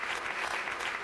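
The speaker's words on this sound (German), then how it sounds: "und jetzt ein großer Applaus heute bei uns" A short burst of dense audience clapping welcomes a guest speaker onto a stage, loud and continuous.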